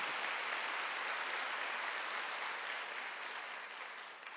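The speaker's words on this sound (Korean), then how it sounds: "주님 만나는 날 최고가 될 수 있다고 믿는 사람만 박수 하세요." Sustained applause from a large church congregation at a Wednesday service, a dense wash of clapping that holds steady and then slowly fades toward the end.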